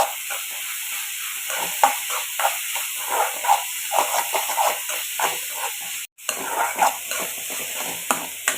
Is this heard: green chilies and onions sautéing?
yes